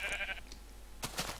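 Sheep bleating in the video game Minecraft, two short, quiet bleats near the end of a faint, otherwise quiet moment.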